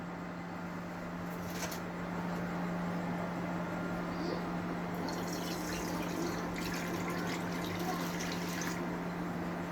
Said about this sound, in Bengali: এবার চুলায় প্যান বসিয়ে তাতে অল্প পরিমাণ পানি দিয়ে দেব